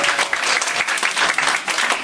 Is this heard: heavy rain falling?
no